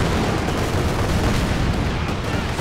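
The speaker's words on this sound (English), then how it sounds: "The land mattress is popping off." Land Mattress rocket artillery firing in Company of Heroes 2, a loud, dense, sustained roar of rapid launches and blasts that fills the whole stretch without a break, with no speech.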